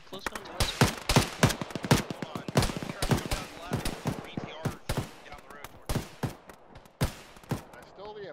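Heavy, rapid gunfire in the military sim Arma with a ShackTac group in Chernarus: sharp, loud cracks and short automatic bursts arriving in dense clusters, some near and some more distant, continuing throughout with occasional speech.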